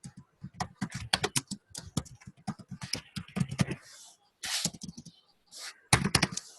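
Quick bursts of clicking keystrokes on a computer keyboard while HTML form and table code is written, close and crisp, with short pauses between runs of typing.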